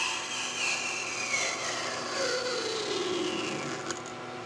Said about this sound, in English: just parting it off.